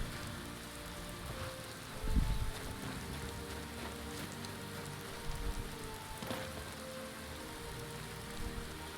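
Steady rain falls in a video game, a dense continuous hiss of drops on surfaces with a few louder low thumps, no speech.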